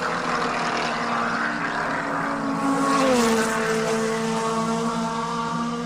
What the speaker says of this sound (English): these are brilliantly prepared and stunningly fast Formula Renaults. And sound incredible as well at the same time.